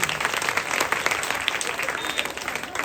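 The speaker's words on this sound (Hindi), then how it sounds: "पहले इन तीनों के लिए एक बार जोरदार ताली" Loud, dense applause from an audience at an annual community function, a continuous roar of many hands clapping that fills the whole stretch.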